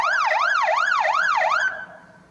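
A police car siren wails loudly nearby in a fast rising and falling cycle, repeating four times before cutting off and trailing into a brief fading tone.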